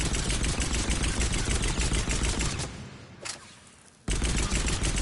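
Rapid pistol fire in Mass Effect 3 rattles out as a dense, loud burst of shots, breaks off into a brief lull with a single faint report, then resumes abruptly at full intensity.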